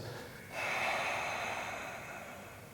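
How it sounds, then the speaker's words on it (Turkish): Long, steady exhale of breath during a yoga class, a soft airy whoosh starting after a short pause and fading gradually, close and without speech. "Rahat nefes ver."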